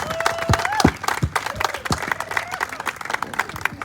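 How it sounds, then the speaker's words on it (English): Crowd applause at a pickleball facility's grand opening, scattered claps and cheers close by, with a voice heard over them. "Big round of applause."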